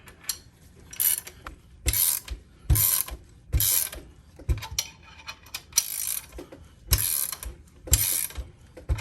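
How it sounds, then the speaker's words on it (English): MacPherson coil spring compressor on a Subaru strut being tightened, with repeated ratchet clicking bursts in an uneven rhythm separated by short pauses, close and fairly clear. "And now we're going to tighten it up."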